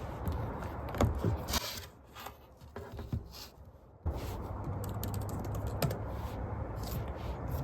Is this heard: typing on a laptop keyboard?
yes